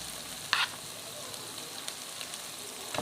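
Marinated keema goes into masala frying in hot oil, giving a soft, steady sizzle with a brief louder crackle early on and a few faint clicks afterward.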